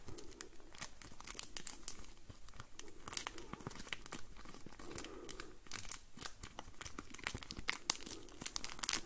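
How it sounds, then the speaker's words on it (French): A small paper bandage wrapper crinkled and torn close up during a relaxing medical check-up roleplay, with dense, irregular crackles and crisp snaps running continuously for several seconds, no talking. "C'est ça, c'est du papier. Bravo, c'est un petit emballage de pansement."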